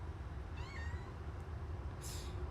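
A cat meows once in a short rising-then-falling call near the start, over a steady low rumbling background, followed by a brief bright hiss of noise toward the end.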